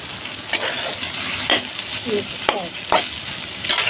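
Boiled pasta being stirred in a hot pan, a continuous sizzle with repeated sharp scrapes and clacks of a spatula against the pan at a slow irregular pace, close and fairly loud.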